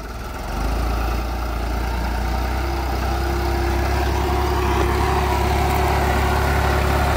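A New Holland 3630 TX 4WD tractor rolls along in first gear, its diesel engine producing a steady, low, constant drone at close range.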